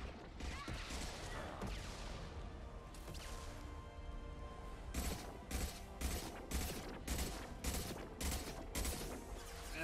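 Gunfire at an enemy in Mass Effect 2, a rapid series of sharp, evenly spaced shots in the latter half after a rumbling, noisy stretch of battle sounds.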